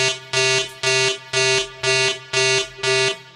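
A trading tool's loss-limit alert sounds as six evenly spaced, loud electronic buzzer beeps, each about a third of a second long with short gaps, steady and alone.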